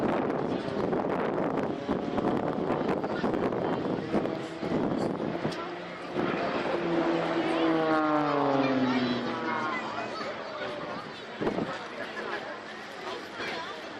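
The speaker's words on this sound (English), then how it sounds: "The aircraft literally is torquing around the propeller." A propeller aerobatic aircraft at the Blackpool Airshow performs a torque roll, its engine droning with a rising and falling pitch as it hangs on the propeller, heard at a distance under a commentator's voice and wind buffeting the microphone.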